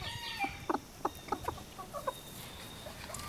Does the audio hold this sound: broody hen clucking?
yes